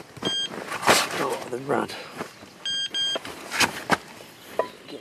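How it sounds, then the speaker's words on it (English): Electronic fishing bite alarm on an overnight fishing and camping trip gives two short clusters of high beeps, heard under a voice. "As if on cue, two beeps on the left-hand one."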